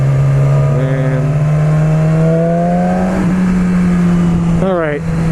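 A 2016 Yamaha R6 sportbike engine drones steadily while riding, with tonal pitch rises through the gears and wind noise throughout, while the rider talks over it.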